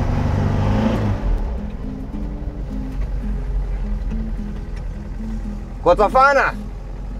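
A turbo diesel car engine idles and runs with a steady low rumble throughout, after a louder first second, while a voice exclaims briefly near the end.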